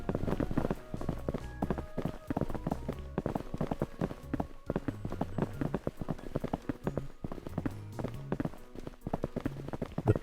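Zombie footsteps in a Godot game come as a continuous run of overlapping, shuffling steps, fast and busy, with no talking.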